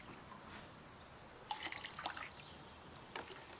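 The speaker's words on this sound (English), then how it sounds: "I'm just going to add the soda ash solution right into the dye solution at this point." Soda ash solution poured into a dye solution for fabric dyeing, a faint liquid trickle and splash in two short bursts against quiet background.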